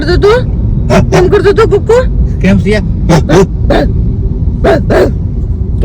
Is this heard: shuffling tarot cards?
no